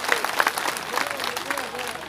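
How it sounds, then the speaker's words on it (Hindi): A crowd at a farmers' union rally in Haryana claps and cheers in a dense, continuous burst, with voices faintly audible underneath. "आप लोग जोरदार तालियों के साथ स्वागत करें।"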